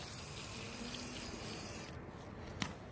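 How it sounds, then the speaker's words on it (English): Water pours steadily over plant roots, a soft continuous splashing and trickling close by, with a small sharp tap near the end. "So I'm going to wet the roots"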